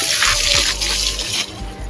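Water runs steadily from a tap on a farm, filling a container with a continuous close splashing rush and no talk over it.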